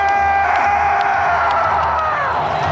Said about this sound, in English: Emmitt Smith had this crowd whipped up into a frenzy